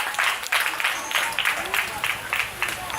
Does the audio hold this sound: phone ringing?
no